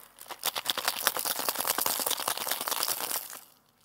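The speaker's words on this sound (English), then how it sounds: "we're gonna give it a hard shake so it makes the foam" Cocktail shaker shaken hard with ice for a coffee liqueur drink, rapid rhythmic rattling strokes for about three seconds, close and fairly loud, then stopping abruptly.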